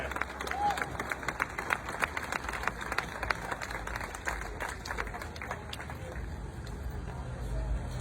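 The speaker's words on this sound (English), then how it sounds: "Applause for everyone here." Outdoor crowd at a rally against police abuse in Worcester claps for those present, a scattered round of hand claps with a few cheers under street ambience and traffic rumble, thinning out toward the end.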